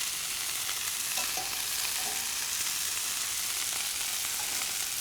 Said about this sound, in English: I'm putting it straight from the boiling water into my hot pan.